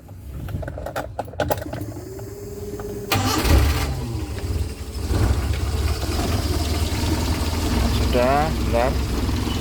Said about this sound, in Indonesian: ini coba mau saya starter juga mobilnya